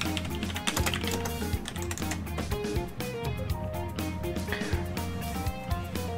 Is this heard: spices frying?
no